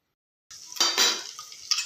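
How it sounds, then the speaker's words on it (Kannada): Whole spices such as fennel, cumin, cloves, cardamom, cinnamon and bay leaf being stirred in hot oil in a pan for egg biryani, with soft scraping and clinks of a spoon over a faint sizzle, close and alone. "ಚೆನ್ನಾಗಿ ಮಿಕ್ಸ್ ಮಾಡ್ಕೊಳ್ಳೋಣ."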